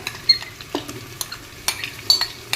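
Tomatoes tipped into a pan of browned onion and capsicum and stirred, giving close, irregular scraping and clinking taps of a spoon against the pan with a soft sizzle underneath.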